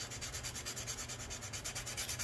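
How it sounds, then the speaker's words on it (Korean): Faint, quick rhythmic rubbing of fine sandpaper on the tip of a fishing float, with about a dozen short, even strokes in steady succession. "사포질을 지금 부드럽게 지금 여기 싹 갈아냈거든요"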